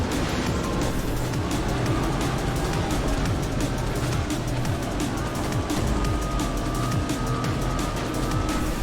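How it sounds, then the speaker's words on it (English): Car engines roar continuously through a fast racing video game, a dense buzzing drone with tire noise and rapid clicks, steady and loud throughout. "This is a really fast racing game, and this looks absolutely awesome,"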